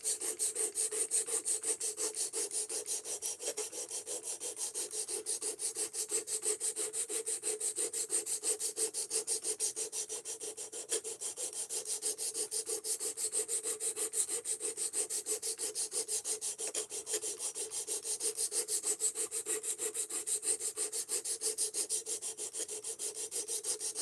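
A knife drawn over the stone of a fixed angle sharpener, a steady close rhythmic scraping that continues evenly for the whole stretch.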